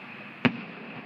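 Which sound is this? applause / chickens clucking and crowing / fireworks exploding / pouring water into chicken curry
fireworks exploding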